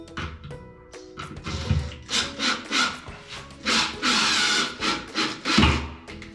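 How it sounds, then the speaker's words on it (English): Screws driven into wall plugs in a bathroom wall while mounting a LED mirror, heard as a series of close, rasping grinding strokes in uneven bursts, fairly loud and with no talking. "I'm just going to screw a couple of screws."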